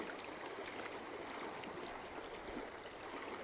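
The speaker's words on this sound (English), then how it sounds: "You may be able to hear this roaring water" Roaring stream water at an undisclosed outdoor spot, a steady broadband rush that fills the whole clip at moderate, even loudness with no voices.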